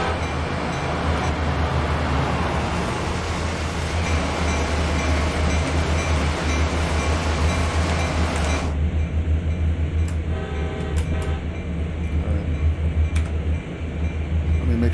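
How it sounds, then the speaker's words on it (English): A passing train in the Train Sim World game rumbles loudly and continuously, its steady low drone shifting in tone partway through, with no voices. "We got another train coming."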